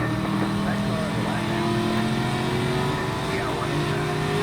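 Race car engines in a racing video game drone and whine steadily, several cars' tones layered and shifting in pitch as they pass, with a commentator talking over them.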